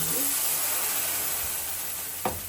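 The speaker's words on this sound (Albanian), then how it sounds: "tash fillojna që t'ja shtojna shërbetin" Sugar syrup poured into hot toasted semolina and flour for milk halva hisses and sizzles steadily and loudly in the pan, with a short clink of a utensil near the end.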